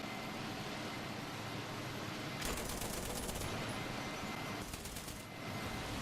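Bursts of machine-gun fire from the loader's mount on an M1A2 Abrams tank in War Thunder, a rapid rattle that starts partway through and returns in a shorter burst near the end, over steady engine and battle din.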